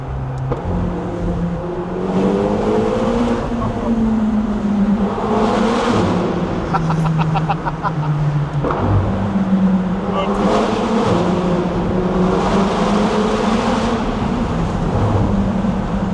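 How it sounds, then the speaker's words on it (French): A loud car engine roars and revs continuously inside a tunnel in Marbella, with a booming, echoing resonance, pitch rising and falling through gear changes, with voices briefly audible underneath. "Dans le tunnel on dirait une Formule 1."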